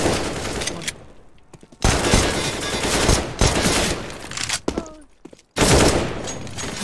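Counter-Strike gunfire rattles out in loud sharp bursts and rapid volleys, broken by brief quiet gaps, with the shots close and dominant throughout.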